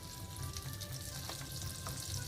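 A butter-coated slice of bread, dipped for French toast, frying in a hot pan, with a steady close sizzle and crackle throughout and no talking.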